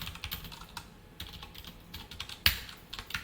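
Code being typed on a computer keyboard, with a steady run of quick, close key clicks and a few firmer taps, fairly quiet and with no talk.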